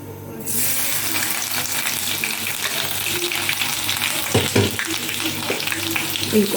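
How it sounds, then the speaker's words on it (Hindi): Garlic ginger paste hits a hot pan with a sudden loud sizzle that keeps hissing steadily, with a few clinks of stirring near the end. "हम अब इसके अंदर डालेंगे हम लहसुन अदरक का पेस्ट।"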